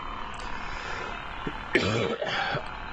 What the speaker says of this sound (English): pardon me for coughing.